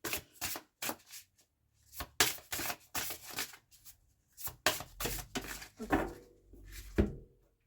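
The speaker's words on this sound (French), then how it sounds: "On va tirer une dernière carte." Tarot cards shuffled and drawn by hand, a run of short crisp riffling bursts and flicks with brief pauses between them, close and moderately loud with no talking.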